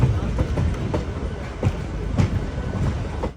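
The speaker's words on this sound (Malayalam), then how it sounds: "ട്രെയിൻ ഇതാ കോയമ്പത്തൂർ നോർത്ത് സ്റ്റേഷനിലേക്ക് എത്തിക്കൊണ്ടിരിക്കുകയാണ്" Passenger train rolling into Coimbatore North station, heard from on board: steady rumbling wheels with clickety-clack joints and occasional squeaks, loud and close throughout.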